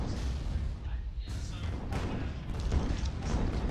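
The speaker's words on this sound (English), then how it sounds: "his turn there threw off some of the howitzer shots" Howitzer fire in a Guns of Icarus airship battle, with several booming cannon shots and thuds spread across a few seconds under someone talking over the action.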